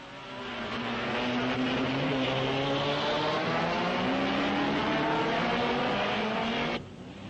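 1961 Belgian Grand Prix racing cars, among them Gendebien's yellow Ferrari, roar past at Spa. A loud, sustained engine note holds for several seconds, its pitch sliding gradually, then cuts off abruptly.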